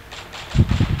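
Shotgun blasts from the SVIP shotgun in the shooter game Tập Kích, a quick run of four or five muffled, boomy thumps in steady rhythm, fairly close and loud, with no talk over them.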